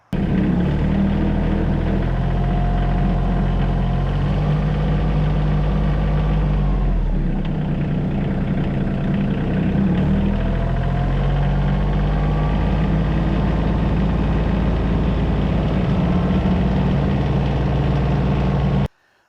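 A diesel tractor engine idles steadily and loudly throughout, a dense low rumble holding an even pitch from start to finish with no voices over it.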